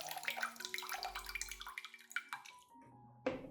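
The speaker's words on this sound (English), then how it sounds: "Just lightly water with clean water," Clean water trickles and drips softly over orchid roots, with faint splashes, then a brief louder gush near the end, quiet and close.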